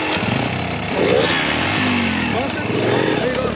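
A 2022 Kawasaki KX112 two-stroke dirt bike engine revs with a raspy, buzzing tone, rising and falling in pitch over a few seconds, close to the listener.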